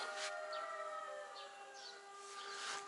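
A distant air raid siren wails in a long sustained tone, with birds chirping faintly nearby over quiet outdoor ambience.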